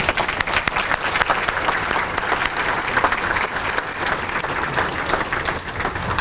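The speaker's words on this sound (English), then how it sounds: "let's give them a round of applause for all that they've done for these teams." Sustained audience applause for a high school wrestling team at a recognition event, dense steady clapping throughout with no talk over it.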